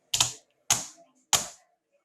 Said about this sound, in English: I'm going to do some typing.